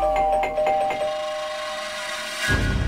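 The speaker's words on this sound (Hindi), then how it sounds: "अगर आधी रात को आपकी डोरबेल बजे" A doorbell chimes with a bright, repeated electronic ding, ringing out clearly, followed by a low rumble at the end.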